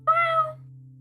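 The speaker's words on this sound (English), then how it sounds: "Can you guys hear the cat?" A single short cat meow, clear and close, rising then fading within half a second over a faint steady electrical hum.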